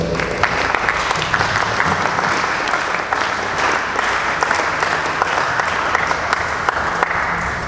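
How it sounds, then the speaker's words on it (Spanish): Loud, sustained applause from an audience, dense clapping throughout with no pauses. "Un fuerte aplauso para él"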